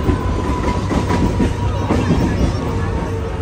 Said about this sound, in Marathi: तर ह्याच ट्रेनने आपल्याला ठाण्याला जायचं आहे